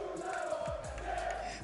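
French fans roar at a Fortnite championship event, a distant, reverberant crowd cheer with rising chant-like swells that rolls on steadily under a low, muffled arena hum.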